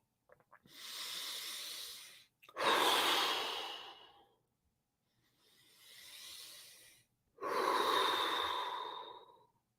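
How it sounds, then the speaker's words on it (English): Four slow, deep breaths from one person, close and loud, each long inhale or exhale forming a soft airy rush with short pauses between, and no talking. "Enjoy breathing normally."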